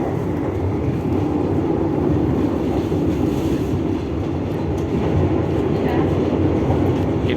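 The Tegal Bahari train passes close by in Indonesia, a steady loud rumble of wheels and cars with faint rhythmic clatter that holds throughout, without speech.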